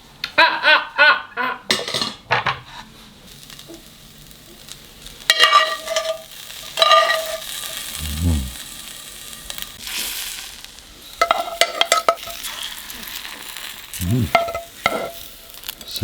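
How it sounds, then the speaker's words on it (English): Mushrooms sizzling in a hot pan, with bursts of frying crackle broken by clinks and scrapes of utensils on cookware, close and intermittent across the stretch. "Side of sizzly mushrooms."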